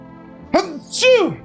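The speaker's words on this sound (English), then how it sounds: "I gotta sneeze" A single sneeze, a sharp breathy intake followed by a loud burst, close and clear with nothing else around it.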